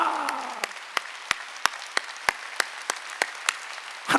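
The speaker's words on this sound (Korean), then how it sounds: "박수 치라고." Clapping during a Sunday church worship service: a steady run of a dozen sharp, evenly spaced claps, about three per second, moderately close. A voice trails off at the start.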